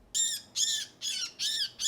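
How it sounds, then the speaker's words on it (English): A tufted titmouse caught in a mist net squawks while being handled for banding at a nature preserve, giving four harsh, evenly spaced calls with short gaps between them, close and fairly loud with no voices. "A tufted titmouse also snagged itself in the net."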